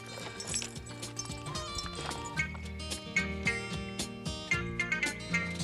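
Horse hooves clip-clopping in an uneven rhythm in a 1973 western film, with faint neighing mixed in against a busy background of music-like tones.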